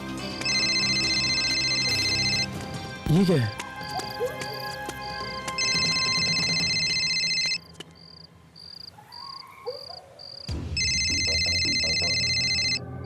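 A phone ringtone trills in repeated bursts with pauses between, over rustling and background hum; a voice briefly speaks partway through.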